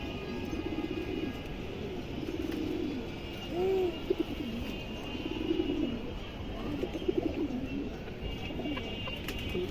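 Female pigeons from a breeder's loft coo in repeated low, warbling phrases close by, steady over a constant background hum.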